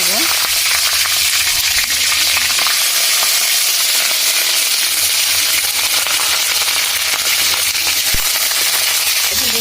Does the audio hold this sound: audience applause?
no